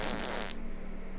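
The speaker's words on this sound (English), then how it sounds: "I do have 2 separate fart noises on this soundboard" A soundboard fart effect plays during a tabletop Dungeons & Dragons session, a short buzzy, flapping blurt that fades into a low hum.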